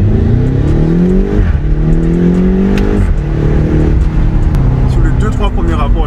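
A BMW X6M with 575 hp revs hard, its engine tone climbing in repeated loud sweeps close by, with sharp crackling exhaust pops near the end.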